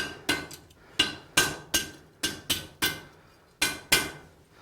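A hammer rings out on the horn of an anvil while a forged fire poker is turned, with about ten sharp metallic strikes in an irregular rhythm, each one loud and close with a short ringing decay.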